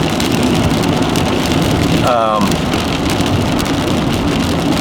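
Heavy rain pours during an intense thunderstorm in Sheridan, Wyoming, a loud, dense, continuous hiss of drops striking surfaces, with a brief squeaky sound cutting in midway and a voice faintly present.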